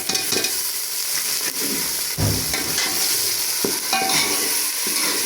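Tomatoes and green chilies frying in hot oil for a vegetable dish, a steady close sizzle with stirring scrapes and clatter throughout, no talking.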